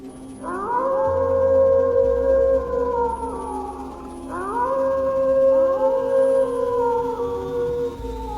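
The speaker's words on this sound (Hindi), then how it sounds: "कहीं दूर से किसी सियार के रोने की आवाज आई।" A jackal howls in long rising and falling wails, two drawn-out calls repeated in sequence, heard alone over a quiet night background.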